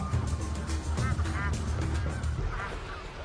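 Geese in a large flock on a tableland honk again and again, the calls overlapping loudly over a low rumbling background.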